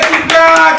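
A burst of clapping hands at a live Nigerian talk-show taping welcoming a guest, loud and close, with a few sharper claps standing out over a short stretch of mixed room sound.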